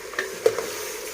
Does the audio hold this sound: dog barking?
no